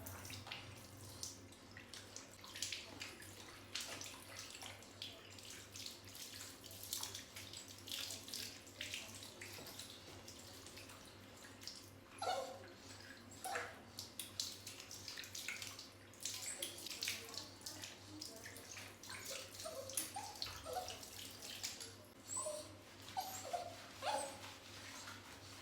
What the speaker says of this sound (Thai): มาอาบน้ำไป เลือดเปื้อนแล้วนะต้องได้อาบน้ำ